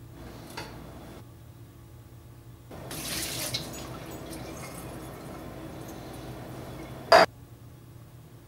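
Liquid is poured out of a cup into a sink, a brief splashing rush followed by a soft steady trickle and a sharp clink near the end.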